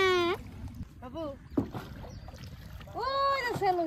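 A boat being rowed on a village river, with soft water sounds running steadily beneath people talking and a voice breaking into song close by.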